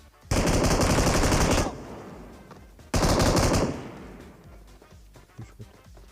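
A DP machine gun fires in PUBG Mobile in two long, loud, close bursts of rapid automatic shots, each followed by a fading echo and quieter background sounds.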